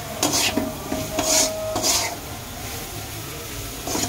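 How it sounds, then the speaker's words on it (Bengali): Potatoes with turmeric, cumin powder, spices and salt are stirred in a pan, several close rasping scrapes of a spatula against the pan over a soft sizzle, with no talk. "উপকরণগুলো দিয়ে লবণ দিয়ে এই যে নাড়তে শুরু করলাম"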